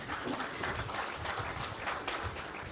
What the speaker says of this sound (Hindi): पवन भाई के लिए भी जोरदार ताली बजाएंगे।